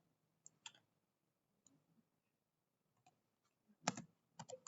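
Keys on a computer keyboard being typed in short, sparse bursts of close, crisp clicks with pauses between, ending in a quicker flurry of taps.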